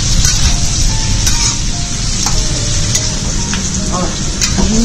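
Chicken and chestnuts stir-fried in a wok on a rural kitchen stove, producing a loud, continuous sizzle with repeated sharp clinks and scrapes of the spatula against the pan throughout.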